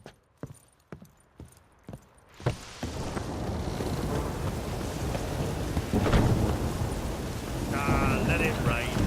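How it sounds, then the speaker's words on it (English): In The Witcher 3: Wild Hunt, a few sharp clip-clop knocks, then a sudden crack of thunder followed by steady heavy rain pouring down with low rumbling. "Let it rain."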